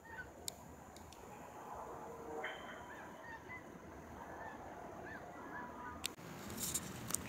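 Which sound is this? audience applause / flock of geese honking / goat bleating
flock of geese honking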